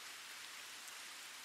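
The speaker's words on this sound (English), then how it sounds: "beneath the softness of rain that trickles down" Soft, steady rain trickling down in a quiet setting, a continuous even hiss of drops on a surface with no voices, faint and unbroken throughout.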